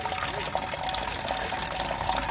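Liquid gushes and splashes steadily from a leaking oil pan on a 1955 Allis Chalmers WD45 tractor, a continuous close, loud pouring rush.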